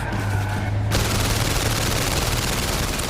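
Gunfire from the PlayStation VR Worlds video game, a dense, loud burst of rapid shots that floods the whole clip with continuous noise and no talking.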